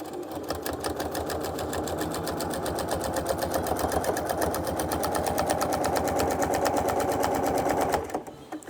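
A sewing machine runs steadily while quilting a memorial quilt, its needle hammering in a fast, even rhythm that stays loud and close for about eight seconds before stopping abruptly.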